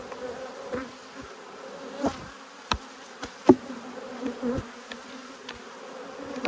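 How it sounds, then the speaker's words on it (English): Honey bees swarming close by after a heap of them dropped from the hive onto the ground, a steady buzzing drone with a few sharp knocks and taps on top. "Heap of bees dropped on the ground."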